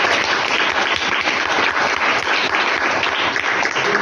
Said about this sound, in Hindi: अभिषेक के लिए एक बार फिर से ताली बजाइए